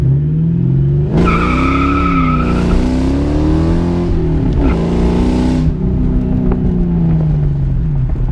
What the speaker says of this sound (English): let's see if the little 2 valve can do a burnout